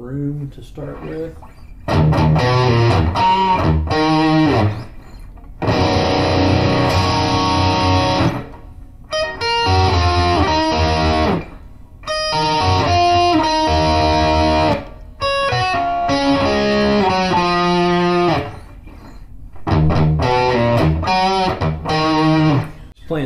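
Electric guitar through a Boss Katana amp set with room reverb and delay, loud distorted solo licks in several bursts separated by short pauses, sustained notes ringing out with a spacious tail.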